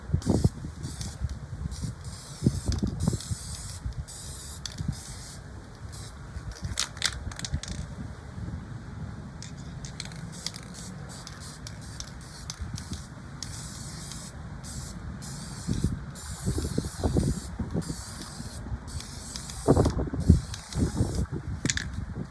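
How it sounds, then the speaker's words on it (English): Repeated bursts of Krylon Crystal Clear acrylic aerosol spray hiss, short and long, with brief pauses between, close by and fairly steady. "Krylon Crystal Clear, shake it up. And this is just basically an acrylic coat"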